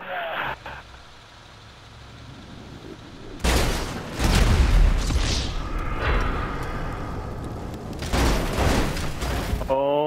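Explosions and gunfire in GTA Online: after a quieter stretch, loud bursts of booming blasts and rattling shots erupt, fade briefly, then return in another heavy burst, with no speech.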